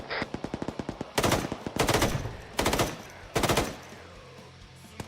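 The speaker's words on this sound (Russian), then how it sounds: "Одиночный выстрел от города." Rapid bursts of automatic gunfire in the video game Arma 3 rattle out, interspersed with single and repeated shots, loud and close, with sustained echoing blasts.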